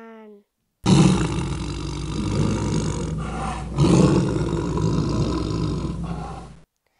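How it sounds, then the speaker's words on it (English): A tiger gives two long, loud roars, the second starting midway through after a brief dip, each rumbling and breathy, close and alone with no talk. "May the tiger's roar be heard."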